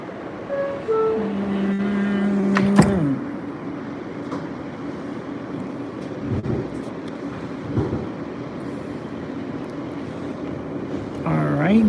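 Subway train on the F line at Avenue X, a steady low rumble of the running car with a brief tonal announcement chime and a voice over the start, then continuous rolling noise with occasional clunks.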